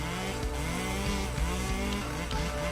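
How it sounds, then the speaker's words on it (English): A blender in a Breaking Bad tycoon video game whirs with a harsh, buzzing, chainsaw-like motor whine that wavers in pitch, loud and continuous. "My God, that blender sounds like a chainsaw."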